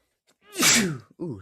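A single loud sneeze with a sharp inhale before it, followed by a short breathy exhale; close and clear, no talking.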